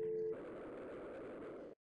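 A busy signal sounds on a Cisco IP phone: a steady tone plays briefly and then gives way to a hissy, continuous line tone that cuts off abruptly, with no voices.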